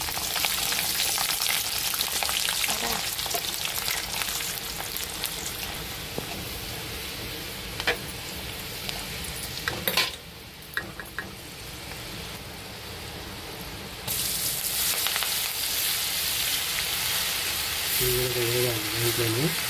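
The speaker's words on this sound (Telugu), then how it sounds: "వేయించిన నూనెలోనే ఎల్లిపాయలు వేస్తున్నా." Garlic fries in hot oil for a spicy chicken pickle, making a continuous close sizzle with brief stirring clatters. The sizzle dips midway, then comes back strong, and a short tonal sound appears near the end.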